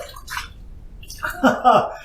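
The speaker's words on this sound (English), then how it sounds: "Let's dump out this hot water on top of the Outlaw Barbershop shave soap, like that." Hot water poured from a container over Outlaw Barbershop shave soap in a lathering bowl, giving a short gurgling splash with bubbly liquid noise, near and moderately loud, following brief quiet rustling.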